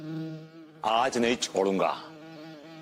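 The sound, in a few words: buzzing bee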